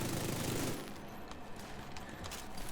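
Automatic weapon fire from hip firing in The Division 2, a dense sustained burst at first, then quieter scattered shots and mechanical clatter behind it.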